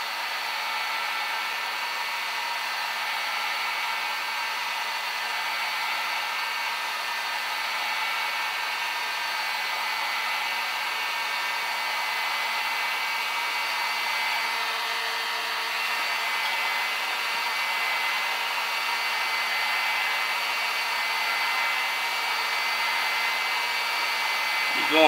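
Heat gun heating a thin-walled plastic hose: a continuous, steady blowing whine, close and unchanging for about 25 seconds, with no talk.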